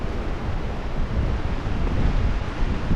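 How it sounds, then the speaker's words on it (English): Strong wind gusts of about 30 miles an hour buffeting a campsite with a PVC pipe tarp tent, a loud continuous roaring rush that swells and falls, heavy low rumble of wind on the microphone. "Got some serious wind gusts tonight."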